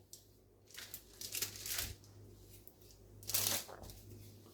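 A knife slicing through a ball of doner kebab burger meat, giving soft squishy cutting and scraping sounds up close with a louder swipe near the end and no talk.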